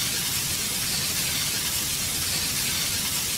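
Water spray washing the wheels and sides of a car at a gas station, a steady broadband hiss of pressurized spray running continuously and close throughout.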